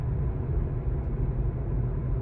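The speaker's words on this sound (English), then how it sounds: "Again, really heavy acceleration up to 40." Tesla on Full Self-Driving at night accelerating hard up to 40, a steady low road rumble and engine-like drone heard from inside the cabin, continuous and moderately loud.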